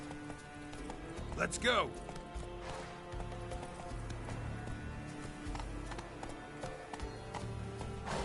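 A horse gallops with rhythmic clip-clop hoofbeats in The Witcher 3 video game, steady and moderately close, beneath someone talking and game ambience.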